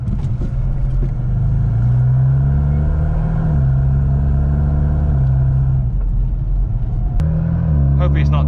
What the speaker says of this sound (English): just out on our test drive with the Mini here